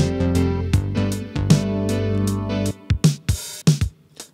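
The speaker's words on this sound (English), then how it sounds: "I'm using a 707 from Samples from Mars, which makes really awesome drum libraries based off of old drum machines" Programmed drum machine pattern built from Roland TR-707 samples, played in Logic Pro: steady punchy kicks and snappy hits with bright cymbal ticks, tonal bass-heavy layer in the first part, then sparse isolated drum hits, loud and alone.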